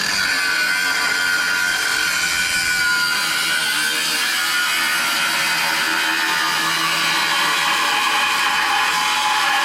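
A pipe is cut off with a continuous, loud, harsh grinding whine that holds steady from start to finish, with no talking over it.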